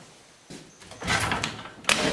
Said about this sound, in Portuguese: Eu não relei nessa porta. Eu vi de chapa ela mexendo.